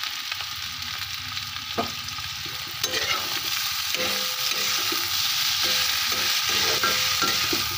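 Turmeric, cumin and chili powder fry in a pan, giving a steady sizzle while a spoon scrapes and stirs in a repeated rhythm, close by and without talk.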